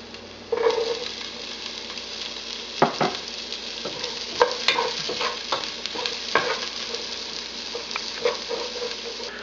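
Garlic and onion sautéing in butter in a cooking pot, giving a steady close sizzle broken by sharp scrapes and clinks of stirring against the pot, with no one speaking.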